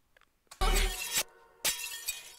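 Glass shattering in a K-pop song, two loud bright crashing bursts about a second apart, heard over quiet background.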